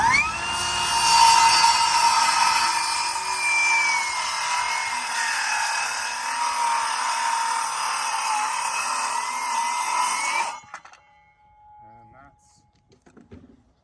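A power saw rips a 1.5 inch deep cut into a wooden rafter at a cabin build, a loud, high, steady whine for about ten seconds that cuts off abruptly, followed by faint handling noises.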